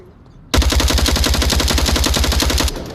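Sustained rapid automatic gunfire in a shooter video game, a loud, steady burst of evenly spaced shots lasting about two seconds before stopping abruptly.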